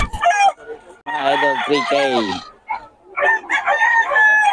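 Roosters crow nearby, several overlapping calls in quick succession, with a brief bit of talking at the start.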